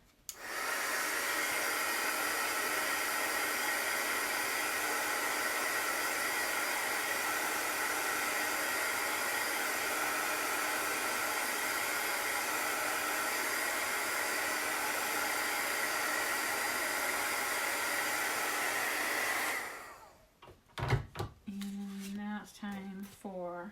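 A hair dryer blows steadily on wet chalk paint on a wooden pallet-style sign, a loud, continuous whooshing roar close to the mic for about twenty seconds before it clicks off, leaving brief handling noise.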